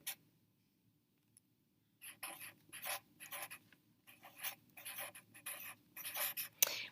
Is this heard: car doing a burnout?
no